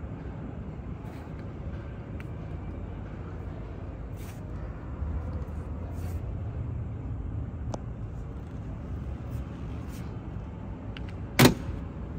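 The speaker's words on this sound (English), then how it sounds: "Very distinctive sound of how those doors close." An unrestored black 1935 Chrysler Airstream sits quietly under a low steady background hum, until a single solid door slam lands sharply near the end.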